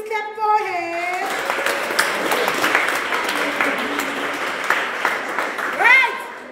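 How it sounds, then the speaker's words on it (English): An audience bursts into steady clapping right after someone speaks, the applause lasting several seconds at moderate loudness before tapering as he resumes talking. "To Bob, please clap for him."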